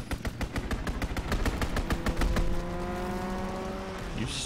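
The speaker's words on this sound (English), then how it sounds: "Fighter pilot inbound, strafing the target." A fighter plane makes a strafing run in Call of Duty: WW2, a rapid burst of machine-gun fire in regular loud shots, then an engine drone passing as the firing stops.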